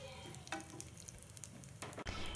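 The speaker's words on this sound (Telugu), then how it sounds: "ఇదే ఆయిల్లో 1 టీ స్పూన్ పోపు దినుసులను తీసుకుందాం" Tempering spices sizzling in hot oil in a pan, a close, dense crackling hiss with a few sharper pops and a brief dip near the end, no voices.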